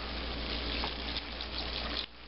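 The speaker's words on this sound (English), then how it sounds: "We'll go ahead and add in some of our water." Water pouring steadily into a pot of Texas red chili on a stovetop, a continuous close hiss and splash that cuts off near the end, leaving a low background rumble.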